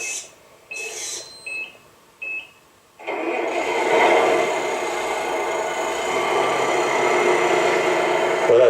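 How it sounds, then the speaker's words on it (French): A model truck's engine starts after a few short electronic beeps, then settles into a steady, close idle with a busy mechanical rattle that holds to the end. "Donc je vais vous le faire démarrer déjà."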